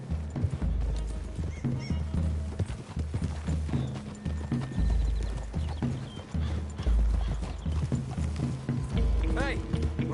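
Horses' hooves clip-clop steadily on the ground in the Red Dead Redemption 2 video game, with a horse whinnying briefly, under continuous game music and people talking.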